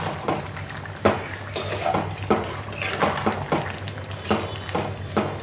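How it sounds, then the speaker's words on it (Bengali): Spoon or spatula stirring fish curry in a metal pan, with repeated scraping knocks and clanks in an uneven rhythm over a wet sizzling background, loud and close. "এই যে দিয়ে আমি মিশিয়ে দিচ্ছি"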